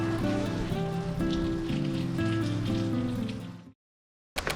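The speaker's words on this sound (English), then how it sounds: "I'm really happy to be out of the rain now in this barn." Steady rain drumming on the roof, heard from inside a barn on a long walk across England, a dense continuous patter that cuts off abruptly near the end.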